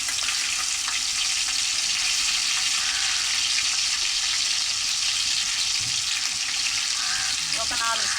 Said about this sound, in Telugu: అదే నూనెలో అల్లం తెల్లగడ్డ పేస్ట్ వేసుకోవాలి.